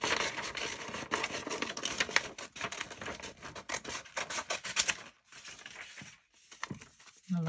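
Scissors snip through a paper cutout of a glamorous lady for a shabby chic altered envelope, giving a fast, dense run of close crisp cuts and paper crinkles that pause briefly before resuming.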